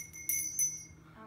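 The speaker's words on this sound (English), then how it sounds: "A golden gazelle bell. That's a silly question. It rings too." A small golden gazelle bell rings in a couple of bright, high metallic dings, close and fairly quiet, followed by faint room sound.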